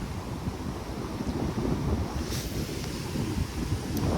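Steady wind buffets the microphone in a continuous low roar at a spillway, with a faint wash of water beneath it and no voices.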